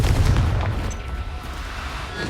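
A Confringo fire spell detonates in the video game Hogwarts Legacy, a loud, dense booming blast that starts strongest and rolls on as a sustained rumbling roar without any voices.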